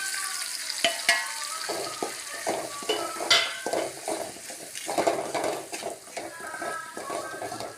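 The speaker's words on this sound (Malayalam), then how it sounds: "മുളക് പൊടി ഉലുവപ്പൊടി ചായപ്പൊടി ഈ മുളക് ഇതെല്ലാം കൂടി ഇതിലിട്ട് നല്ലോണം മൂപ്പിക്കും" Chili powder, fenugreek powder and spices fry in hot oil for an irumban puli pickle, giving a steady sizzle broken by frequent scraping and clinking of a spoon against the pan.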